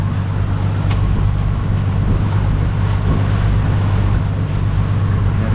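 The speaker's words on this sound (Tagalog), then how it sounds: "medyo maalon na dito guys oh" A boat crosses choppy sea near Padre Burgos Pier in Leyte, its engine a steady low drone with wind and water rushing evenly around it, loud and unbroken with no talking.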